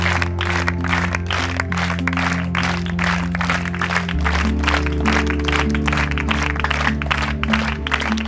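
An audience in a school class event applauds, with steady, dense clapping that continues throughout over a sustained musical tone.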